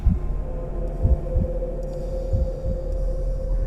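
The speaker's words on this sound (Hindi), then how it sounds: "इस खामोशी के बीच मुझे अपनी धड़कन साफ सुनाई दे रही थी" Low, muffled heartbeat thumps in paired beats as a sound effect for a horror story, pulsing steadily beneath a constant humming drone.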